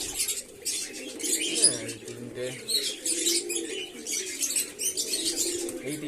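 Pigeons coo in low, repeated calls close by, with chirps and wing flaps among adult birds that are laying eggs, while a person speaks briefly over them.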